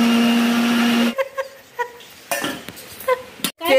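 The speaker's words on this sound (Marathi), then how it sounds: "4 टमाटर घेतलेले आहेत, आता ते सुद्धा लावून वाटून घेणार आहेत" A mixer grinder runs with four tomatoes while masala is prepared for a village-style mutton dish. A steady motor whine lasts about a second and then cuts off, followed by scattered clinks and clatter of kitchen utensils.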